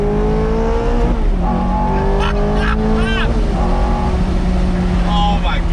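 A Ferrari F430 engine revs hard from inside the car, climbing in pitch with several quick gear shifts that drop and rebuild the tone, loud and close throughout.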